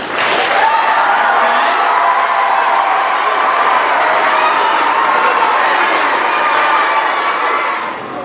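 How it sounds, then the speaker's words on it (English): A school assembly crowd claps for fifth graders at an MLK celebration, a loud burst of dense applause with some cheering and children's voices, holding steady before easing off at the end. "Let's give a special clap for the 5th graders who led us."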